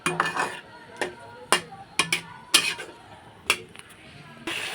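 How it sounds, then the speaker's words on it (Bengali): A metal spoon clanks and scrapes against a pan while ground cumin, turmeric and chili paste are sautéed for a fish curry. Sharp, irregular knocks ring out over a quiet background. "এখন ভালোভাবে মশলাগুলো ভালোভাবে কষিয়ে নেব।"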